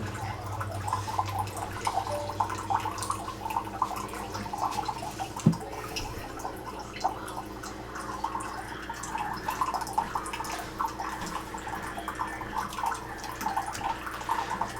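A Keurig K Brew and Chill coffee maker brewing, with a soft, steady trickle and drip of liquid and faint gurgling over a low machine hum, fairly quiet and close.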